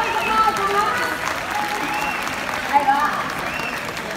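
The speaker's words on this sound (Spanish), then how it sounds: "¡Aplausos, gente! ¡Un aplauso más, un aplauso!" Audience applause at a Spanish-language freestyle rap battle, steady clapping filling the whole span with crowd noise, a host's voice calling out over it.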